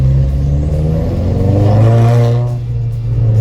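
A turbocharged sedan accelerates hard, its engine note rising steadily and loudly from close by, with a rumbling drone that holds steady as the revs build, and no voices over it.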